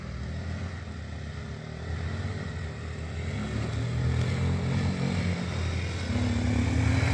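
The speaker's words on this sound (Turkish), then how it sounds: "Üç motor mu? İki geliyor abi, bir geç kaldı." Off-road motorcycles approach on a dirt trail, a steady buzzing engine drone that grows gradually louder and nearer over several seconds, with no talk.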